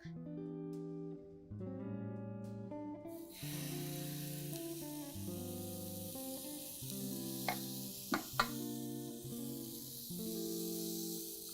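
Vegetarian mix sizzles in an oiled frying pan during a cooking class, a steady bright hiss that starts a few seconds in and carries on under louder melodic music, with a few sharp clicks near the end.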